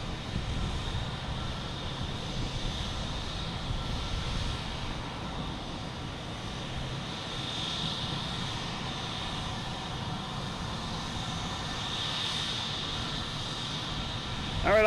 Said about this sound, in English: we have JetBlue heading to San Francisco with the fresh mint livery